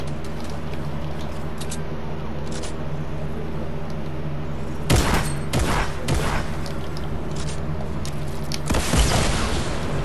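Rockets in Fortnite: a steady engine-like drone is broken by a sudden cluster of loud explosive booms, then a quieter stretch and another sharp blast toward the end.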